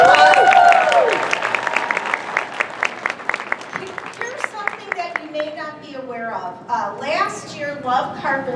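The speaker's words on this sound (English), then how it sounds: "Let's give them a big round of applause." An audience applauds at a conference, with a dense patter of clapping running under a voice talking over it the whole way through.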